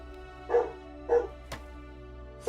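A dog gives two distinct barks about half a second apart, fairly clear against a quiet background, followed by a sharp knock.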